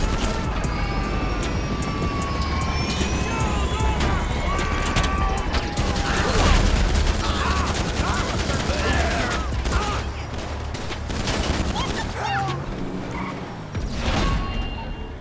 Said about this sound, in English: These are brutal when on foot, but easily taken down with precise aiming at the pilot with your AP pistol.